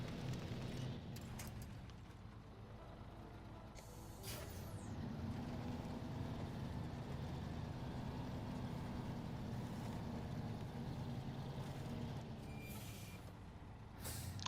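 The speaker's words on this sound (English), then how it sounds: "Love the sound effects this truck makes too. The engine sounds, the brakes, it sounds really good to me." Transtar 4070 truck in a video game, a low engine rumble running steadily and fairly faint, punctuated by several brief hissing air-brake bursts near the start, middle and end.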